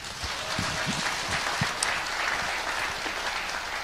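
A crowd at a Ulsan rally claps steadily, sustained applause with a few distinct sharper claps near the front.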